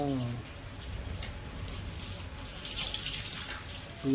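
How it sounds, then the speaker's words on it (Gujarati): Tap water runs steadily into a clay pot with a continuous splashing rush. A voice murmurs briefly at the start and end. "તો ગાઈસ હવે પાણી ભરવાનું ચાલુ છે માટલામાં"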